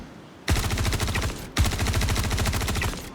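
Two bursts of rapid automatic rifle fire in a video game, each a loud, dense string of shots, the second following after a brief gap.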